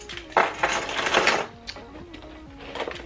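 Keys jingling as they come out of a backpack, a few light metallic clinks and rattles in short bursts, close and fairly quiet.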